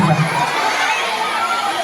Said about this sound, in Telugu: అది గట్టిగా చప్పట్లు కొట్టారు కదా